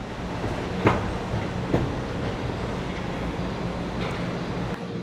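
Aboard a Miami Metrorail Green Line train, a steady rolling roar runs under a few sharp rail clacks spaced about a second apart, with faint squeals toward the end.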